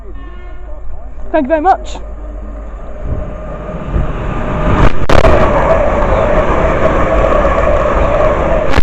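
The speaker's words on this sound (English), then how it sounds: "Train passed by is a pair of 350s." A pair of Class 350 electric trains passes through Harrow & Wealdstone station, building from about three seconds into a loud, sustained rumble and rush with a brief high squeal, after a short spoken remark at the start.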